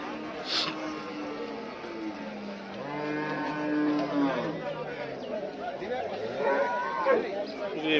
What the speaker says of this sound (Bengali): এটা হচ্ছে গরু